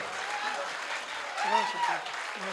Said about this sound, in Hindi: भरपूर तालियां हो जाए दोस्तों